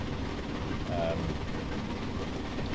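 Train running along a photogenic route in a train simulator game, a steady low rumble of wheels and engine heard faintly under background noise.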